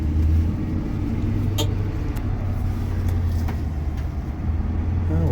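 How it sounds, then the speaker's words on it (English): A Chevy square body truck's engine runs steadily at high idle as the clutch engages, a continuous loud low rumble with a faint intermittent squeal, and no one talks over it. "Clutch actually making a little noise"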